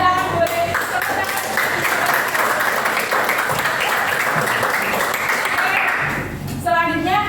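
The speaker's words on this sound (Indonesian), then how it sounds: "Boleh tepuk tangan." Classroom applause for a student in an economics lesson, a dense burst of clapping from a group that holds steady for about six seconds before fading, with voices around it.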